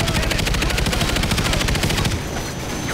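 Loud, fast machine-gun fire in the video game Call of Duty Ghosts rattles steadily for about two seconds, then cuts off, leaving a quieter rumbling background.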